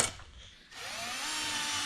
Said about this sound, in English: Just pre-drilling some holes.